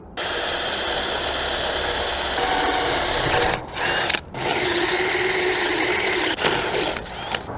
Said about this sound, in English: Drilling through steel with a fresh drill bit.